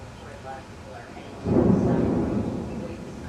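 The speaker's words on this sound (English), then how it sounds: "Big thunder now." Thunder rumbles in a storm with rain, a low roll swelling midway and lingering over steady rainfall, fairly close and loud.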